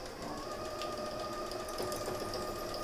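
A domestic sewing machine runs a steady, continuous whir while stitching a tubular seam on a fabric baby toiletry bag, close and fairly quiet with no talk over it.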